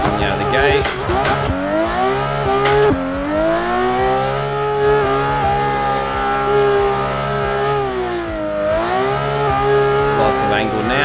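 A VDC F22 drift car in Assetto Corsa, its engine holding a loud, rising and falling high-revving drone throughout, with sharp tire squeal bursts and a voice talking over it.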